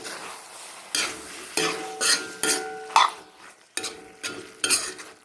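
A spoon stirs beef fry in a metal pan in a series of about eight scraping strokes, each with a soft sizzle and some clinking of the utensil against the pan.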